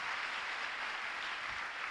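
A church congregation applauds during a sermon by a preacher, a steady, even wash of clapping that carries on throughout without pause.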